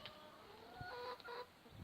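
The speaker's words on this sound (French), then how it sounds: "Toutes mes poules me suivent à chaque fois." Backyard hens clucking softly at close range, a short burst of a few murmured clucks over quiet outdoor background.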